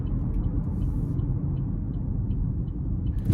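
Low steady engine rumble from a 2024 GMC Terrain SLE 1.5T FWD with 9-speed transmission while driving, heard from inside the cabin, continuous and even with no talk.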